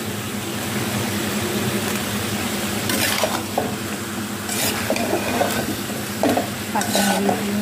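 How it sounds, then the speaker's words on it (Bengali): Spiced mutton with potatoes cooks in a wok with a constant loud bubbling sizzle, broken by occasional scraping stirs and clinks of the utensil, no talking. "খাসির মাংসে সব কিছু মশলা দিয়ে মাখিয়ে দিয়ে কড়াই বসিয়ে দিয়েছিলাম, রান্না হচ্ছে"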